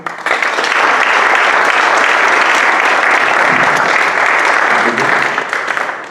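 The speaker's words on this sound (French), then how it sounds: "C'est une deuxième applaudissement pour du beau matériel de qualité comme ça." An audience at a launch event bursts into dense, loud applause that holds steady for about six seconds before tapering at the end, with some voices mixed in.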